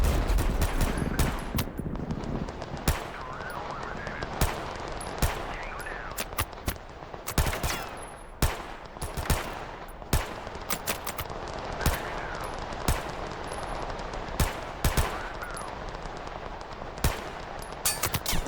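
Dense automatic gunfire from a battle in the shooter game Total Conflict: Resistance, with rapid machine-gun bursts and sharp single cracks packed close together and loud throughout the whole stretch, with no clear talk.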